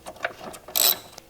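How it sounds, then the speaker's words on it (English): A ratchet tightens a 10 mm nut on a battery hold-down in a 2017 GMC Acadia, giving a few quiet clicks followed by a brief louder burst of rapid ratcheting up close. "Put our 10 millimeter nut on. Tighten it down."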